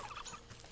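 Turkeys gobble in the video game Wytchwood, a quick, faint burst of warbling calls lasting under a second.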